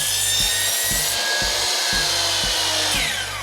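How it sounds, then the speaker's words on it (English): A saw cuts through wooden crown molding to make mitered edges, loud and close, with a regular rhythm of repeated strokes. "we're gonna cut this up, we're gonna miter the edges"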